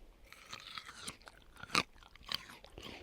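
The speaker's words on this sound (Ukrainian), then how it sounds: "От Ігор зараз хрумкне." Someone bites into a firm, crunchy Donska Nevesta hybrid grape with ripe seeds, giving two sharp close crunches followed by softer chewing.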